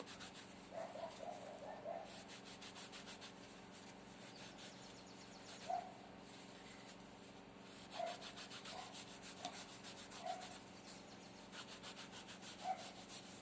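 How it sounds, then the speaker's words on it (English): A hand rubs glued lining onto a traditional Igbo red cap, a soft faint repetitive brushing friction with occasional light thumps, heard close over a quiet room hum. "I'm using my hand to rub just to make the gum to stick to the cap"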